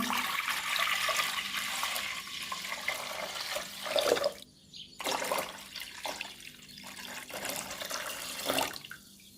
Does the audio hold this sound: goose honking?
no